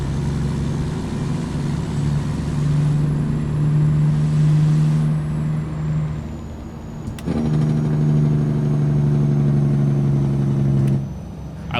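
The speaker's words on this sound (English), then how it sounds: "I love the sound of that Jake, how it just kind of rolls in there" A big rig's Jake brake in American Truck Simulator rolls in as a deep, rumbling engine drone that swells, pauses briefly with a sharp click, then resumes loud and steady before cutting off.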